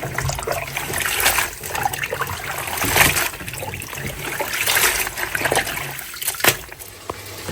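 Leafy greens (shaak) being washed by hand in water, with steady trickling and splashing, a few louder splashes and swishes, close and continuous, no talking.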